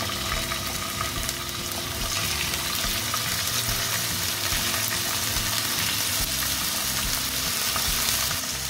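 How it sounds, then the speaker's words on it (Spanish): Chicken strips fry in a little olive oil in a pan on the stove, a steady close sizzle and crackle running throughout with no talking. "vamos a poner un sartén en el fuego y agregamos un poquito de aceite de oliva. Y vamos a poner aquí las tiritas de pollo"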